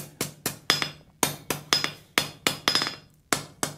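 A hammer striking hot steel bar stock on an anvil, drawing a short blunt taper for a forge weld, eleven sharp ringing blows in an even rhythm with brief pauses, close and loud.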